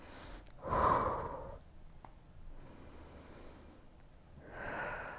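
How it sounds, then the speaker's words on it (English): Deep yoga breathing: a strong, close, breathy exhale, then softer airy breaths and a faint hiss, ending with another long audible exhale, quiet and without speech. "let's take about 3 more breaths here, really using those exhales"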